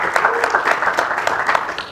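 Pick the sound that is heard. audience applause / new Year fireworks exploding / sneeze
audience applause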